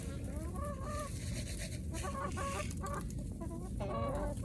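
Chickens cluck and squawk steadily during a morning feeding, several birds calling close by in overlapping bursts over constant rustling background noise.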